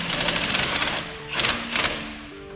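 Bolts on a car front end are tightened a little at a time during tie rod repair, giving rapid ratcheting clicks in short bursts with pauses between, close and fairly loud.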